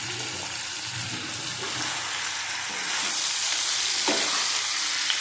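Bitter gourd, papaya and potato frying in hot oil for shukto, giving a loud, continuous close sizzle with occasional stirring scrapes that swells slightly partway through.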